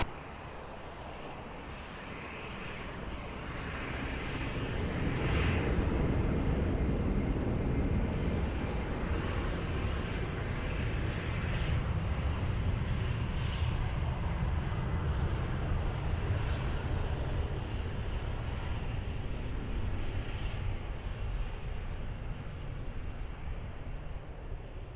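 A jet airliner takes off on runway 20 at Lisbon Airport, its broad engine roar swelling after a few seconds and then holding steady and loud for the rest of the run.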